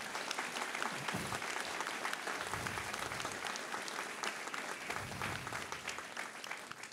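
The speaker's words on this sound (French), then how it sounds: "J'aimerais que tous ensemble, on applaudisse la maire et qu'on ait une pensée pour Thomas et Nicolas." An audience at a 2024 conference on revitalising struggling territories breaks into sustained applause, a thick continuous clatter of many hands that holds steady for several seconds before easing slightly at the end.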